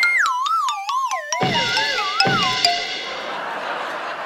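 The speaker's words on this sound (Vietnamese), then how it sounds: "Mời tể tướng Trường Giang lên bấm chuông" On a Vietnamese TV game show, a pressed bell sets off a loud warbling, wavering electronic tone, punctuated by two sharp metallic chime strikes whose ring decays slowly.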